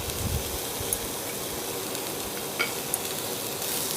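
Boiled moong dal being mixed in a pan for a savoury sundal produces a faint, steady hiss with a few light clicks and scrapes of a spoon.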